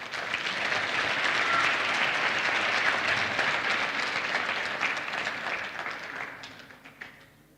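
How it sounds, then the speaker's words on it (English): Sustained applause from a large audience at a university graduation ceremony, loud and dense at first, then gradually thinning into scattered claps as it fades out. "let's give them a round of applause,"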